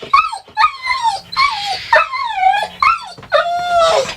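A dog whimpers and yips in a rapid run of high, whining, expressive calls, close and fairly loud, with no talk over it.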